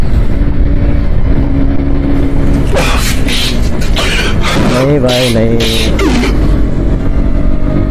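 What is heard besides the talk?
KTM RC 125cc motorcycle accelerating in fifth gear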